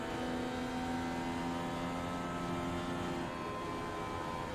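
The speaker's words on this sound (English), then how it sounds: "I was listening to the tires, that's all I could hear." Race car engine in the iRacing simulator drones steadily with tire noise, a loud continuous tone with sustained harmonics and no voices.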